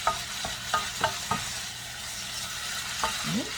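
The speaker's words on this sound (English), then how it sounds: "let's keep stirring it a little bit" Meat sizzles in a hot pan under a steady frying hiss while a utensil scrapes and stirs it in a few quick strokes.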